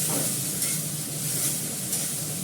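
Onions sizzling in hot oil in a pan just used to fry catla fish, a steady dense crackle and hiss with faint stirring, close and continuous without any voices.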